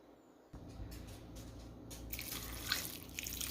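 Water poured into a cooking pot while making an easy weeknight dinner, a steady close splashing and trickling stream that brightens partway through.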